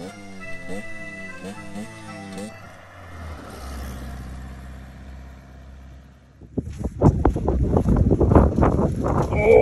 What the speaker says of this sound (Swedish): Det blåser.